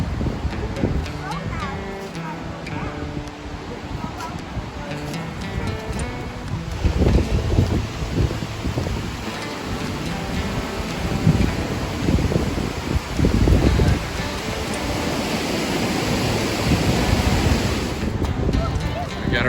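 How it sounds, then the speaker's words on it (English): Strong wind outdoors roars and buffets the microphone in swelling gusts, loud and continuous, with a person talking over it. "This wind is crazy"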